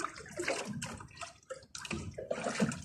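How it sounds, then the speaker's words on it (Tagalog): Heavy rain by the sea gives a faint, irregular wash of splashing and pattering water that swells and fades in uneven bursts. "Kasi ang lakas dito ng ulan mga master."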